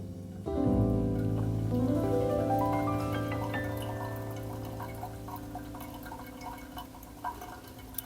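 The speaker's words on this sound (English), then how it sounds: "the rest I'm just gonna pour right in the middle" Hot water pours steadily from a kettle into the middle of a coffee pour-over, a close, ringing trickle that starts abruptly and slowly softens as the dripper fills.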